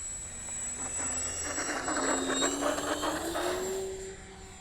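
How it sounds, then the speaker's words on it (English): Engine of an Ugly Stik RC model airplane in a slow takeoff roll, a steady buzzing whine that rises in pitch and swells, then eases slightly, heard alone at moderate distance. "I'm gonna do a slow kind of scale like takeoff roll and let you guys get a look at that"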